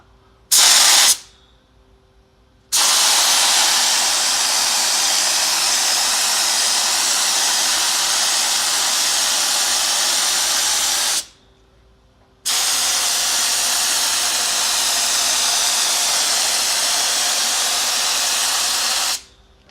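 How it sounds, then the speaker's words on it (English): A Walcom IM spray gun hisses loudly and steadily, spraying Lizardskin sound and thermal deadening coating, with two long bursts and a short one separated by brief pauses. "the IM gun can spray Lizardskin"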